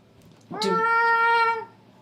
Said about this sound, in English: You just hear this cacophony of cat sounds starting.